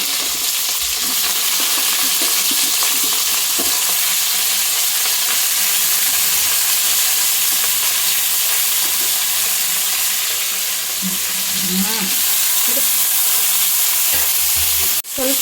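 Washed green chillies fry in hot oil with onion and garlic in a pan, a loud continuous sizzle with scraping stirs throughout and a sharp clatter near the end.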